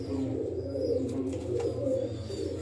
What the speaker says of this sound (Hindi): ये यहाँ कबूतर चला रहे।